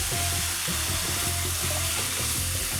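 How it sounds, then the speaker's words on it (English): Eddoes fry in a pan with vegetables for a Trinidadian eddoes talkari, giving a steady, close, loud sizzle with a low bubbling crackle running throughout. "now you want to add your eddoes in"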